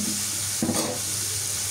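Taro stolons dropped into a pan of well-fried oily spice paste, setting off a steady hiss of sizzling with a brief stirring rustle, close and loud, no talk.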